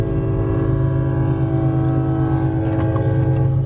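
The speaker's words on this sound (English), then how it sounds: "So we got out because it's a really long train" A very long freight or passenger train rolls past a stopped car near Lake Havasu or Laughlin, producing a steady, loud low rumble with sustained tonal horn-like hum and faint clanks near the end.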